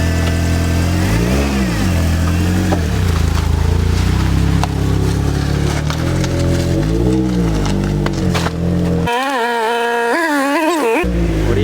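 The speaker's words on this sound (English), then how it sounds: "Cold start revs." A Nissan SR20DET engine revs after a cold start, loud and close, its pitch rising and falling in several throttle blips over a steady rough idle, ending in a sharper, higher rev.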